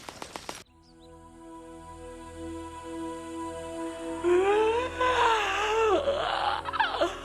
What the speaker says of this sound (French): Sois plus discrète quand tu bailles.